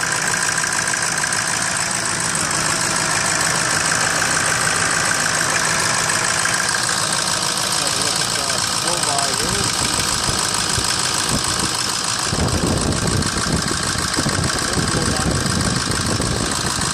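A 2006 Ford F-350 pickup truck engine idles at a steady, continuous rumble with a dense mechanical hum that roughens and grows busier toward the end.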